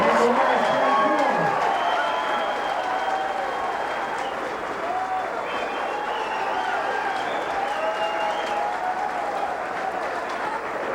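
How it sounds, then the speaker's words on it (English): Appreciative crowd applauding at a women's 9-ball pool match in Peoria after the closing shot, a steady wash of clapping that stays loud across the whole stretch, with scattered cheers and faint voices mixed in. "An appreciative crowd"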